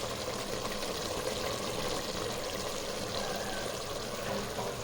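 Soaked rice for beef biryani is washed in water, a steady stream of pouring and sloshing that stays even and fairly quiet throughout, with no talking.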